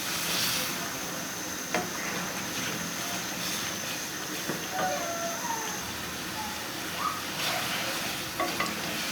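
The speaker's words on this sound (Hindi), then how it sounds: "इसे 2 से 3 दफ़ा मैं हिला लेती हूँ अच्छे तरीके से।" Potatoes stirred into masala frying in a pan: a steady bright sizzle with occasional scraping stirs, close and continuous, and no talking.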